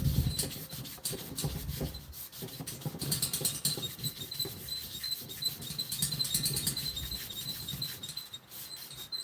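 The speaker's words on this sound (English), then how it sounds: "it would take quite a bit of rubbing to go through to the zinc here" Steady rasping rubbing with faint squeaks as a thick coating is worked through toward the zinc underneath on a custom e-bike hub part, continuous and close with no talk.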